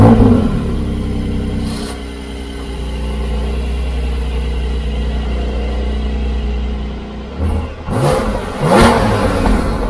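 A 2022 Porsche 718 Boxster Spyder's engine rumbling low and steady under load from inside the car, then briefly lifting off before revving sharply and accelerating hard with loud, rising bursts.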